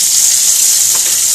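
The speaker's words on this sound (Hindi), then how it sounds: "देख सकते हैं ये हमारा फ्राई हो रहा है बिल्कुल कड़ी कड़ी पीस" Fish pieces deep-frying in hot oil for a curry, a loud, dense, steady sizzle heard up close with no talking.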